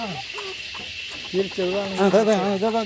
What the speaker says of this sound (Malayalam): ഇത് മുട്ടയിടുന്ന കോഴികളാണ്